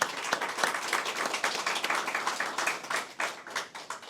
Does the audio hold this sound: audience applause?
yes